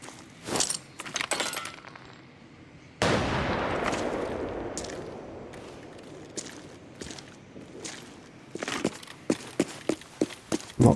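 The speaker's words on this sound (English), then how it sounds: "I'm just going to throw a nade and see if they come" A grenade in a first-person shooter video game makes a sudden loud blast that decays into a long rumbling tail, framed by footsteps, rattling gear and sharp gunfire-like clicks before and after.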